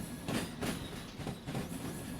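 Faint rhythmic clickety-clack of a freight train rolling on rails in the train simulator Derail Valley, steady wheel thumps at a slow pace with a soft background hiss.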